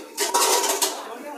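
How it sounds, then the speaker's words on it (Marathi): Large metal cooking pots and utensils are scrubbed at a temple feast, with close, loud scraping and clanking that rises in a few rough strokes and then fades. "अशी भांडी घासतो"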